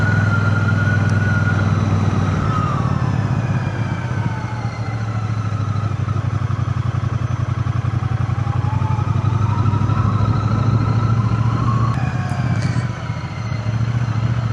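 A Triumph Bonneville motorcycle pulls hard down a straight and runs up through the gears, its loud, steady engine drone broken by brief dips at each shift, with wind rush throughout.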